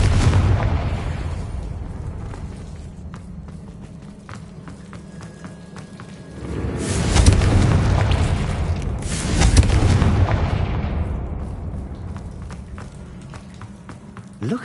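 Fiery Confringo spell blasts in the video game Hogwarts Legacy, two booming explosions a few seconds apart rising out of a low rumbling background, each decaying slowly.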